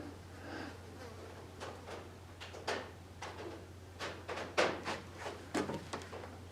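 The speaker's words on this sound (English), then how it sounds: "Flies." Flies buzzing in an old assay room at Vulture ghost town near Wickenburg, Arizona, faint intermittent buzzes and small thumps over a constant low hum.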